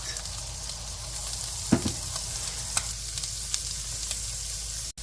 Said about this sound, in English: You toss it and stir it for a few minutes until aromatic